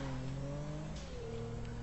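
Tofaş Şahin car engine in GTA 5 revving steadily at close range, a droning harmonic tone that dips slightly and holds through the drift, loud and continuous with no voices.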